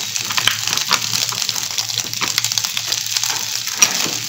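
Sweet corn kernels frying in a pan for a tomato pasta, giving a close, continuous crackling sizzle with scraping stir strokes, no voices.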